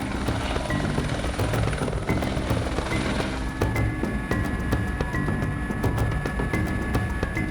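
Helicopter flying overhead during a rhino capture in the African bush, a loud, steady rotor drone that fills the whole stretch without letup.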